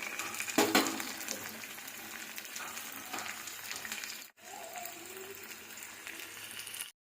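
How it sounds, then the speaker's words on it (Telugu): A sambar tempering of garlic and dried red chillies sputters and fries in hot oil with a dense, crackling sizzle, briefly cut off midway and then resuming steadily. "ఇప్పుడైతే పోపు ఇలా వేగుతుంది."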